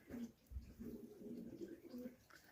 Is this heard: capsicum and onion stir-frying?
no